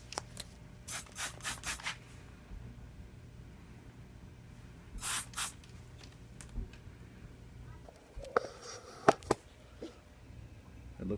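Quick repeated spray bursts in clusters, a trigger sprayer misting soapy water onto a plugged tire up close to check for leaks, followed by scattered rustling and handling noises.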